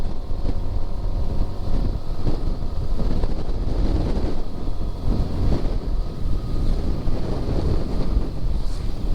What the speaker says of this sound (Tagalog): Uy, grabe, lakas ng hangin.